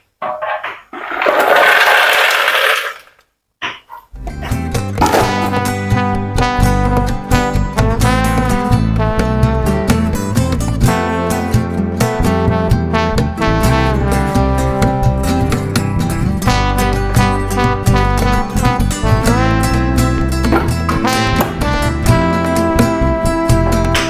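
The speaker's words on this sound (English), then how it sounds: "I'm going to be using my butcher mix blender. This blender is strong." A Butcher Mix blender runs on its high setting, grinding soaked tiger nuts and dates in a loud, rough roar for about three seconds. It then cuts off, and steady music takes over for the rest.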